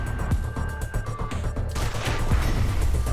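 Gunfire in Wasteland 2 during a turn-based combat headshot attempt, with several sharp shot-like bursts over a dense game ambience, fairly loud and close, no one talking over it.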